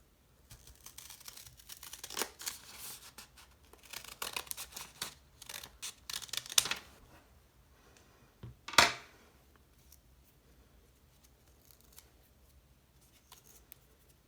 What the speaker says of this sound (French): Alors, je tente avec le ciseau, on va voir.